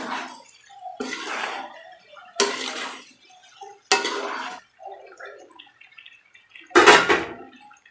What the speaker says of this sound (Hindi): मिक्स कर लेना अच्छी तरह से